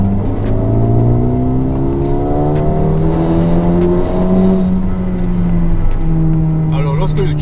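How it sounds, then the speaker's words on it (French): A turbocharged Mercedes-AMG A35 sedan accelerates hard from inside the cabin, its engine note climbing steadily through several gear pulls, loud and close, with a voice speaking faintly over the engine. "lorsque le turbo il se réveille pas qu'à moitié, ça s'entend mais bien fort dans l'habitacle"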